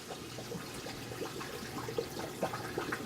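Sanitizer liquid poured onto a brush resting in the hopper of a Stoelting 0231 custard soft serve machine, a soft continuous trickle and splash with small drips, faint against low background noise.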